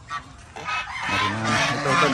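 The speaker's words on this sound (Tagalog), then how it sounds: "Naglilimliman yung mga gansa." Geese honk on a farm in Zambales after a typhoon, a few loud nasal calls close by that build into an overlapping chorus of honks.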